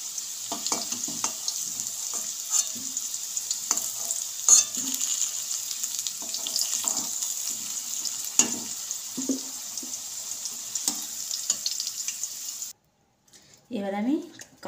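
Boiled raw jackfruit, cooked earlier with salt and turmeric, fries in a pan in a village-style kitchen, a steady high sizzle broken by the scrape of stirring, with someone speaking over it now and then.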